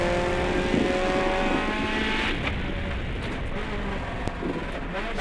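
A rally race car at the Australian Rally Championship runs on a forest track, its engine droning loud and then easing away over a few seconds, under a commentator's voice.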